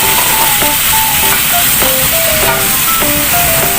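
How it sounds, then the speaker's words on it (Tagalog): Squash cooked with sardines and a little water in a covered pot gives a steady, loud boiling hiss and steam rush, with soft bubbling pops and light clinks throughout. "Takpan muna natin. Ayan, kumukulo na."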